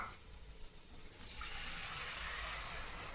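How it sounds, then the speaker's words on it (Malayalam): Tamarind water poured into a pot for fish curry, a steady liquid rush that builds and thickens toward the end, fairly faint and heard alone. "കുഴമ്പുളിയാണ് ഒഴിക്കുക."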